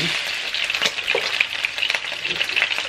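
Food browning in oil in a frying pan, a steady bright sizzle with crackling pops and occasional stirring, close and continuous with no talk.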